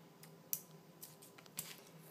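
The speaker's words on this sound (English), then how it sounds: "then with the scissors trimming just above the knot of each lace" Scissors trimming shoelace ends just above the knot, heard as two or three faint, sharp snips spaced apart in a quiet room.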